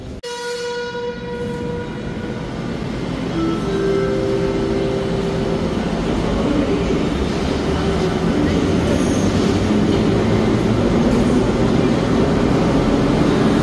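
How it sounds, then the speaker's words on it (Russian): A metro train in Uzbekistan rumbles steadily at close range, its wheels and motors building to a loud continuous roar with faint tonal whines. "доехал на метро до центра города"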